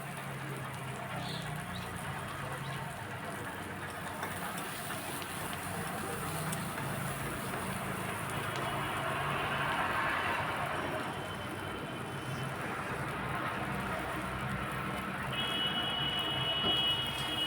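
Taro stolons fry in a pan with onions and slit green chillies, giving a continuous soft sizzling hiss at moderate volume with faint kitchen clatter and no speech.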